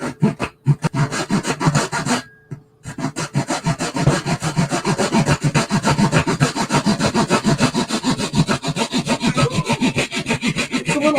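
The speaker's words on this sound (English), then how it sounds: "now I'm going to get my trusty saw out again, and we're going to saw these edges off" A hand saw cuts through two stacked wooden shims in rapid back-and-forth strokes, loud and close, a brief pause near the start and then continuous steady rasping sawing with no talk.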